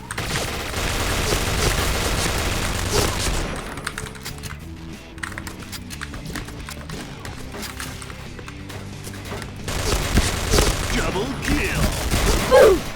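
Rapid bursts of MK46 gunfire in a video game crackle through a dense, noisy game soundscape with clicking and mechanical clatter, loud and continuous, quieter stretch in the middle.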